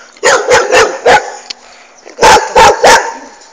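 A dog barks loudly and close by, first in a quick run of four sharp barks, then a pause, then three more, with nothing else in the background.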